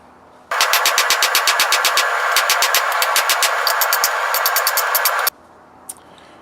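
Hammering on a san mai damascus steel billet makes a rapid, machine-like series of loud metallic blows, close and relentless for about five seconds. It stops suddenly, and one faint knock follows.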